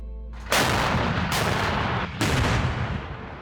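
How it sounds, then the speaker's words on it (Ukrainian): Two or three heavy artillery gun blasts, guns with a range near 40 kilometres, each a sudden loud boom followed by a long rumbling roll that overlaps the next shot. "Гармати! Дальність пострілу під 40 кілометрів."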